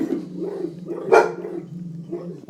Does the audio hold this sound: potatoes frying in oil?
no